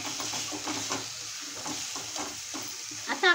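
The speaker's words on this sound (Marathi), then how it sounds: "1 मिनिटभर छान असं आपल्याला परतून घ्यायचं आहे व्यवस्थित. आलं, लसूण आणि कोथिंबीर आणि कांदा सगळं." Ginger, garlic, coriander and onion sizzle and fry while being stirred in a pan, with steady scraping strokes over a constant hiss, close and moderately loud with no talking.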